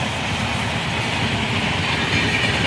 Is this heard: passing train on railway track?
yes